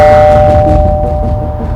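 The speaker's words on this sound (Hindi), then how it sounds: "तभी डोरबेल बज गई" A single electronic doorbell chime rings out loud and close, its steady tone lingering and slowly fading.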